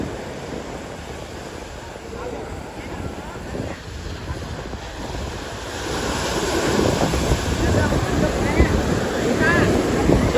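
Sea waves washing onto Somnath beach, a steady surf roar that swells louder in the second half, with wind buffeting the microphone and faint voices in the background.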